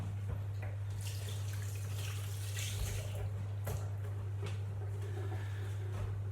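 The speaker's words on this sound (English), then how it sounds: "And rinse our hands again." Tap water runs steadily into a sink while hands are rinsed under it, with splashing bursts over the flow, close and continuous, and a low hum underneath.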